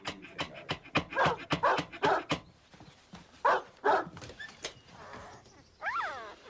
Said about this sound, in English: Dogs? Mongrels? That's right, mongrels.